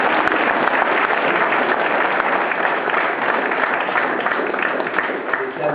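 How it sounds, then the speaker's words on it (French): A theatre audience claps steadily in a dense, continuous wash of applause that holds at an even level for several seconds without pause. "je voudrais qu'on les applaudisse pour ça"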